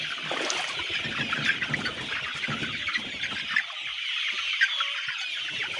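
Laying hens in a poultry house cluck and murmur continuously, a dense flock chorus close by with occasional louder calls rising out of it, and no talking.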